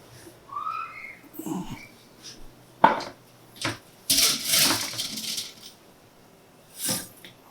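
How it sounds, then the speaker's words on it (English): Cooked chicken wings tossed in a pan of caramelized butter, heard as scattered clinks, scrapes and sharp utensil knocks on cookware, with a louder stretch of stirring and clattering in the middle and a final knock near the end. "All we do next is we just drop the cooked wings right in there and mix it up"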